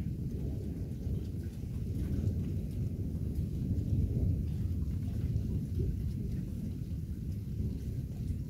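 Thunder from a UK thunderstorm rumbles low and continuously for several seconds, a dense rolling roar mixed with steady rain and no voices.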